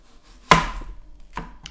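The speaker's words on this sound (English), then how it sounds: "Chop it in half this way." A knife chops a vegetable in half on a cutting board: one sharp, close thunk, followed by two lighter knocks a moment later.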